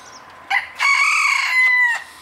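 A black mottled rooster crows once, close and clear, a short opening note followed by a long sustained call that fades out.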